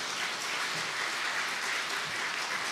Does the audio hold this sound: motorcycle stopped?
no